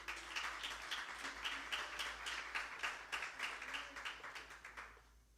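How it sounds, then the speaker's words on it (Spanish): A church congregation claps rhythmically in time, fairly distant and soft, with a low hum underneath and the claps fading out at the end. "Dale un aplauso al Señor."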